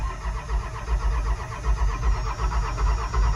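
A cold diesel-style engine with the intake heater unhooked cranking and catching, turning over into a loud steady low rumble close by, running rough and even with no voices.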